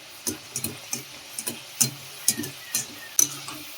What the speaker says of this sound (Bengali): এরকম করে ভালো করে আমি নেড়ে দেবো ঝাঁঝরির সাহায্যে